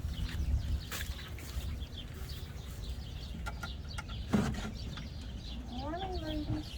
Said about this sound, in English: I'm going to be letting my chickens out